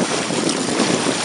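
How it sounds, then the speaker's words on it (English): Steady, loud wind of about 12 knots gusting to 16 roars across a small sailing boat with outrigger amas, buffeting the microphone continuously. "I've got a pretty good wind here, maybe, I don't know, 12 knots, gusting 15, 16 knots"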